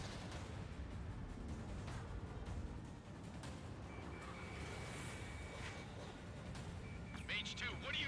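Cannon fire in the video game Ace Combat 7, a dense, continuous rattling rumble of rapid shots under the roar of flight, steady and fairly loud throughout with a brighter burst near the end.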